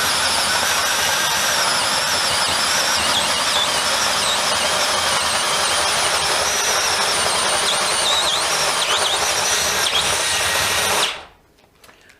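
DeWalt DCD701 12V brushless drill at full power boring a 32mm hole in wood, a loud, steady motor whir and grinding bite for about eleven seconds, then stopping abruptly into near silence.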